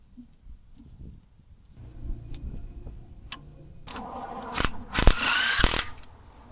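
A ratchet clicks while tightening the wheel nuts on a supercharged MINI, starting as faint sparse ticks and building to louder, denser bursts of ratcheting near the end, with no talk.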